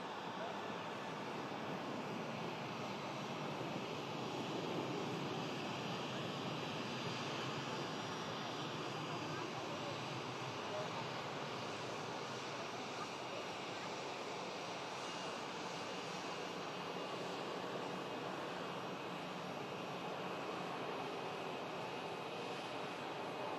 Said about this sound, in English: Mega departure there. Aer Lingus A330.